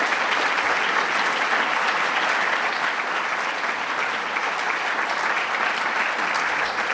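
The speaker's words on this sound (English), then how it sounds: "Let's just give them a quick round of applause." Sustained audience applause at the Ashden Awards ceremony, thick, even clapping from a large crowd lasting throughout.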